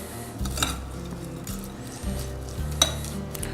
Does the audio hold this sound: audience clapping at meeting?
no